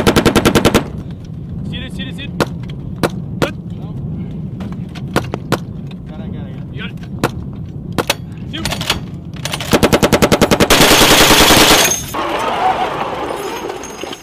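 .50 caliber machine gun bursts from Marines firing at a building, loud rapid rattling volleys with sharp single reports between and a long sustained burst near the end, close and harsh against steady background rumble.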